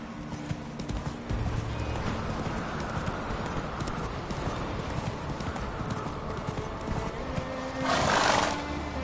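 Roach, Geralt's horse in The Witcher 3, gallops with steady, rapid hoofbeats close by, continuing throughout, with a short whinny-like burst near the end.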